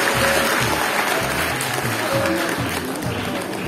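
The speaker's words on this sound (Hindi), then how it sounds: "जोरदार तालियां बजाई" Loud, dense applause from a crowd at a school annual day celebration, a steady wash of clapping that continues without pause, with some voices mixed in.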